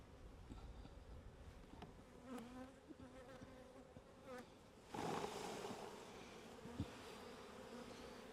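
Honey bees buzz around an open hive in mid-July, a faint, steady drone with individual bees passing close now and then and a louder swell of buzzing partway through.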